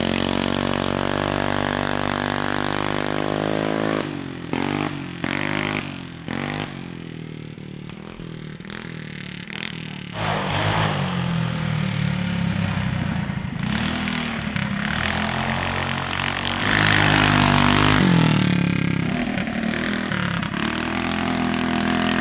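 A 420cc ATV engine fitted with a performance carburetor runs loud and close, repeatedly stumbling and cutting out, dropping away and then surging back with revving bursts.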